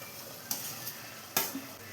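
Papaya pickle mixture being stirred in a pan over heat, with a steady soft sizzle beneath two sharp spoon scrapes, near and alone.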